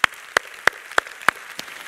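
Church congregation clapping in unison during a Sunday service: six sharp, evenly spaced claps in a steady beat, the last one softer.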